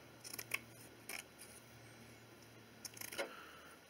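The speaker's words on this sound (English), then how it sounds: "take your cloth here and cut a section of it about the size of the brake, just a little bit bigger there" Scissors cutting a piece of cloth for repairing a cracked lexan RC car body, heard as a few quick, close snips in short clusters over quiet background.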